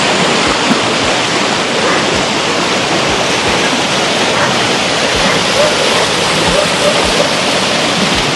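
A river rushes loudly and steadily, a dense continuous roar of churning water close by that holds without a break.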